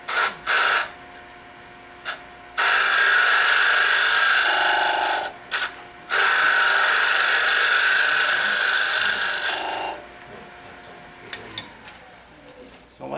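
Wood lathe turning a Christmas ornament while a tenon hole is cut, bursts of loud high-pitched whining and tool chatter that start and stop, with quieter gaps between.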